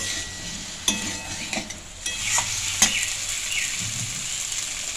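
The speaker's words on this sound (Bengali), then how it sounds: "এবার খুব ভালো করে নেড়ে নিচ্ছি এটাও একটু কষাবো" Paneer curry with potato and cauliflower is stirred and fried in a pan. A spoon scrapes and clinks against the metal several times over a continuous close sizzle, with no talking.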